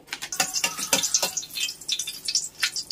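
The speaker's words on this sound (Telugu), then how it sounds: "కడాయిలో ఆయిల్ వేసేసుకొని ఆయిల్ కాగిన తర్వాత ఒక ఎండుమిర్చి వేసుకుందామండి" A dried red chili frying in hot oil in a kadai crackles with close, irregular sputtering pops that rise and fall in quick bursts, with no talking.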